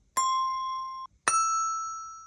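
Two Montessori pitch-grading bells are struck one after the other, each giving a clear bright ding that rings on with a long fading sustain in a quiet room, close by.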